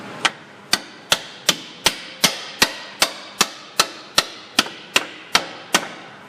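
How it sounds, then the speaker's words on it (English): A hammer taps a lower toe link back into place on a Ford Explorer's rear suspension, striking about seventeen sharp, evenly spaced metallic blows, close and loud, with no talk. "tap your lower toe link back in"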